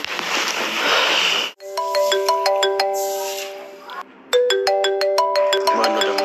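A phone's electronic ringtone rings loudly alone, a repeating bright melodic pattern in two bursts with a brief gap between, after a stretch of noisy background.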